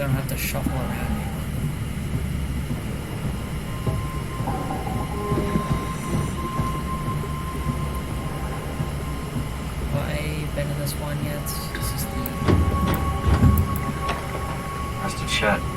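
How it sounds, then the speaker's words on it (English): Shuttle train in the video game SOMA moves with a steady mechanical rumble and rail clatter, a rising squeal and knocks near the end, while someone talks over it. "Not sure I trust the shuttle train anymore."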